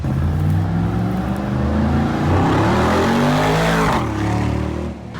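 A nearby 2022 Mercedes G63 G-Wagon engine, rebuilt after a wreck, revs up and holds, its pitch rising and falling, loud and throaty, with no talking over it.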